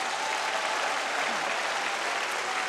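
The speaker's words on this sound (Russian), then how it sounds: "И давайте аплодисменты, давайте Богу аплодисменты." Steady, dense applause from a church congregation, unbroken and fairly loud throughout.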